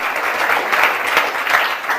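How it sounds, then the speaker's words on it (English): An audience at an alumni panel event on workplace trends applauds the panel and moderator, a continuous even wash of many hands clapping, moderately loud and without speech. "a fine round of applause."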